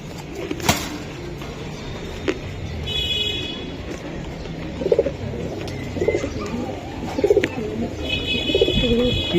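Giribaj pigeons coo in soft repeated bursts amid background chatter and a faint passing car, with the birds fairly close.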